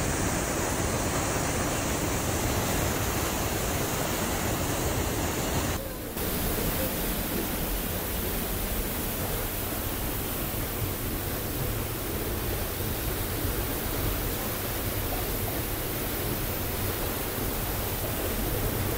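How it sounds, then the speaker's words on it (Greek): Loud, steady roar of a large waterfall dropping about 70 meters in Edessa, Greece, thick continuous rushing water filling the space with no pauses or other sounds. "Γύρω στα 70 μέτρα πέφτει το νερό."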